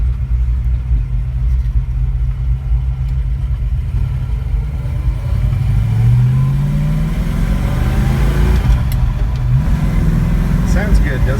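1966 Shelby Mustang GT350 driving on an overcast Colorado day, its engine rumbling low and steady from inside the car, rising through revs with gear changes midway.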